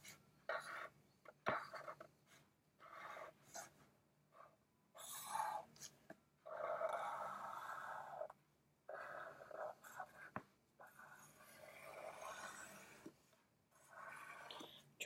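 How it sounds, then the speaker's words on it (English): A Sharpie marker traces pencil lines on paper for a dinosaur head drawing, giving soft, close scratchy strokes in short bursts separated by brief pauses, with no talking. "The next step I'm going to do is trace all of the pencil marks with a Sharpie"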